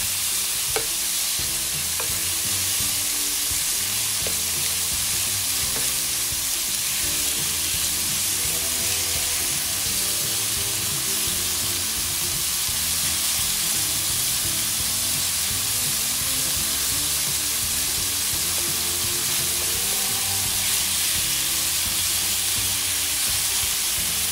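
Beef steak pieces with peppers and mushrooms sizzle steadily in a hot pan, a loud, continuous frying hiss that stays even and close for the whole stretch with no talking.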